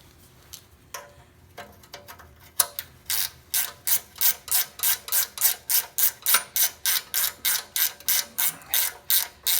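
A ratchet wrench turning a rusted 7/16 bolt clicks in a fast, regular run of sharp ratchet strokes, close and loud, starting slowly and then steadying into an even rhythm.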